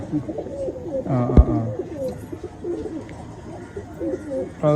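Pigeons coo in a loft, soft throaty calls repeating close by over a low background murmur, with one sharp knock partway through.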